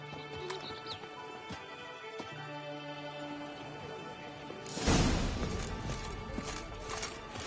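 Roach, Geralt's horse in The Witcher video game, clip-clopping along at a steady gait among ambient game sounds, followed by a louder burst of rushing noise as the horse breaks into a run.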